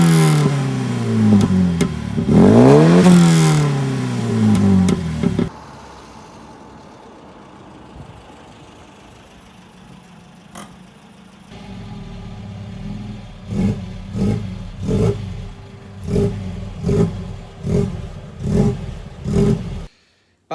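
A modified Mk2 Ford Fiesta revs loudly up close at first, then its engine drops to a low, quieter hum while driving, before a run of rhythmic revving bursts returns near the end.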